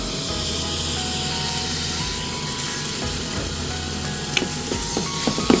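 Masala fries in a pan for a pork roast while being stirred, producing a steady close hiss and sizzle with scraping strokes that grow sharper toward the end.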